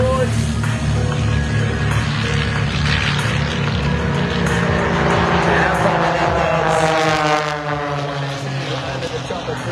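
A propeller-driven aerobatic aircraft performs at the 2025 Hunter Valley Airshow, its engine roaring loud and steady throughout as the pitch rises and shifts with the throttle.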